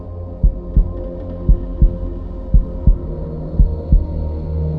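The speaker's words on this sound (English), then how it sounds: "Can you hear her heart beating?" Heartbeat in the horror point-and-click video game Devil's Hideout: a loud, close, slow double-thump pulse repeating steadily over a low droning hum.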